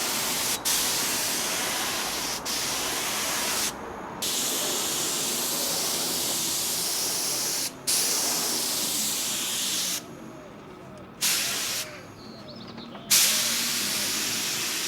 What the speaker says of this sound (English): I'm applying this using my compressor and spray gun